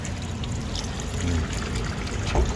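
Tap water runs and trickles into a basin while pork is washed, a steady close splashing with small surges as hands move through it; a voice talks faintly underneath.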